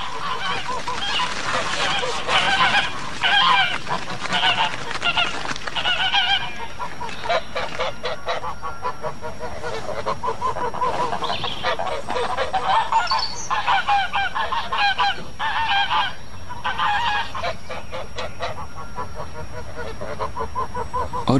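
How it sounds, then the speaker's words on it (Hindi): A flock of ducks or geese honks and chatters together in a courtyard, a loud continuous jumble of overlapping calls with no talking. "मेरी निगाह बत्तखों पर पड़ी जो आंगन के कोने में एक साथ मिलकर तरह तरह की आवाजें निकाल रही थी।"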